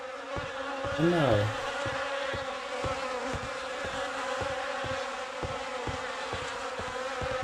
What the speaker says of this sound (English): The air is heavy with the stink of rot and the buzzing of those damned insects.